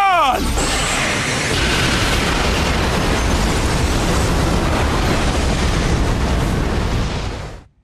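A massive explosion in an Akatsuki anime fight erupts with a sharp burst and then roars on as a dense, loud, sustained rumble for several seconds before cutting off.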